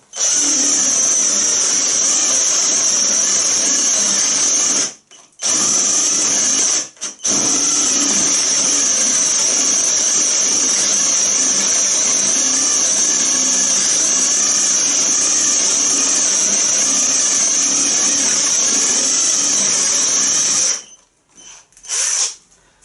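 A MEEC TOOLS 008199 cordless drill runs loud and steady with a high whine, boring with a 35 mm Forstner bit, strained throughout. It pauses briefly twice early on and cuts out near the end.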